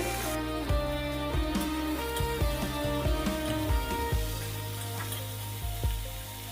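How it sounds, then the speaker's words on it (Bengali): Sliced eggplant sizzles steadily as it fries in a pan. Several sharp clacks of stirring or utensils sound against the pan during the first half. "এটাকে আমি একসাথে আবার ভেজে নেব।"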